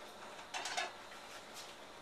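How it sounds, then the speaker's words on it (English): A regular saucepan is set onto a stovetop over a medium flame, giving a brief, faint metallic clatter of a few knocks and scrapes in an otherwise quiet kitchen. "we put a regular saucepan over a medium"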